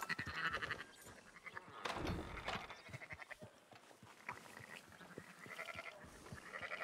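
Sheep bleat in Red Dead Redemption 2, a flock of quiet, wavering calls that overlap and repeat throughout.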